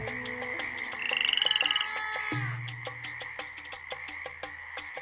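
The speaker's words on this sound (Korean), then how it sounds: "두 번째로 하나님은 개구리를 보내셨어요" Frogs croak in repeated rhythmic pulses, layered with other animal calls and a brief rising squeal, in a biblical plague-of-frogs scene.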